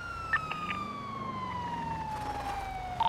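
Police car siren in the video game GTA V, wailing with a steady falling sweep, fairly close and loud over ambient game noise, with a few short clicks or pops near the end.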